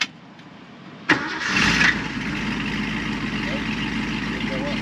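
A classic car engine, a 1971 Cyclone or 1967 Mustang with a 390, cranks with a sharp starter burst and catches, revving briefly before settling into a steady, loud idle. People talk nearby.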